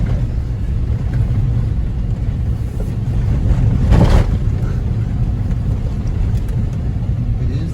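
A Smart car rally car runs down a track and hits water, its steady engine roar swelling into a brief rushing splash near the middle before settling back to a constant drone.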